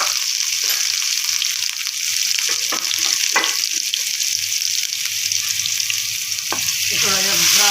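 A garlic, ginger and coriander paste sizzles loudly in hot oil in a pan, a constant close frying hiss with a few brief stirring scrapes.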